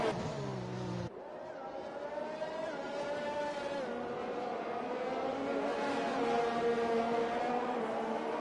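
Formula racing cars scream through a round at Japan in a racing video game, their engines a steady, close, high-pitched whine that rises and shifts as they chase one another, continuous and loud throughout.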